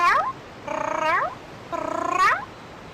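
A person imitates a cat's meow with two drawn-out, rising-and-falling meows. Each lasts about half a second, with a short pause between them, and both are loud and close.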